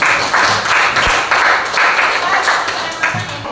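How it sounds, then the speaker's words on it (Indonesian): A classroom of students applauds with dense, continuous clapping in several swelling bursts, fairly loud and close. "Ya, beri tepuk tangan."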